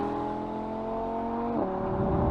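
A 2020 Audi R8 V10 Performance with its 5.2-litre naturally aspirated V10 revving, a loud, close, rising engine wail that drops briefly near the end as it shifts.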